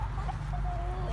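Backyard chickens cluck and murmur close by, soft calls over a low rumbling background.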